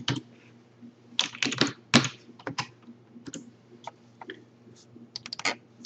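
Someone types a short folder name on a computer keyboard, producing irregular bursts of close, crisp key clicks with brief pauses between them and a low hum underneath.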